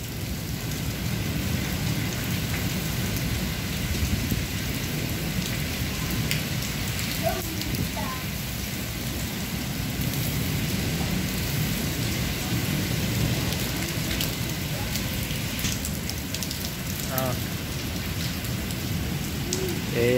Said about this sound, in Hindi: देखो इतनी खतरनाक बारिश